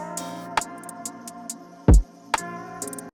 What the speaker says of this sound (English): it's just the open hat that I'm gonna use at the beginning and just kind of start it off right here